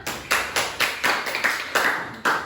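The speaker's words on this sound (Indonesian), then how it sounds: "Beri tepuk tangan nak" A few students clapping in a classroom, sparse and uneven claps at close range with clear gaps between bursts, in a small room.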